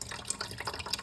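Water gushes and splashes steadily out of a whistling toilet under repair, close and continuous, with small bubbling spurts and no talking.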